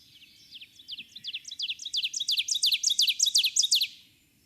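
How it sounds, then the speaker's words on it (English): Ovenbird song in woodland, a rapid series of repeated two-part chirping phrases that builds steadily louder to a crescendo before stopping abruptly, clear and alone. "This is ovenbird."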